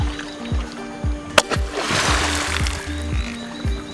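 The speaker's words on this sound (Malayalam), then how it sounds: "വഞ്ചി തുഴയുന്ന നീളൻ കഴ ഉപയോഗിച്ച് വെള്ളത്തിൽ ശക്തിയായി അടിക്കും" A long boat pole beats the water of the Kallai river to drive fish into nets, giving close rhythmic thuds about twice a second, with a sharp splash and wash of water midway.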